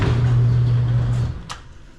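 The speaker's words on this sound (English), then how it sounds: "I got to get the garage door open" A garage door rolls open in a motorcycle workshop, giving a loud, steady mechanical drone with a low motor hum for about a second before it stops with a short clunk.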